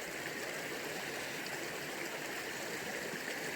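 A river streams past a woodland camp in a steady, unbroken rush of flowing water, close by and even throughout with no voices.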